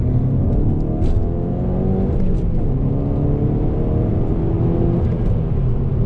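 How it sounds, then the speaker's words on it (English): A car with a Cobb tune makes a second-gear acceleration pull, its engine rising in pitch with a steady rumbling drone, heard from inside the cabin, moderately loud with no talk. "Do a second gear pull."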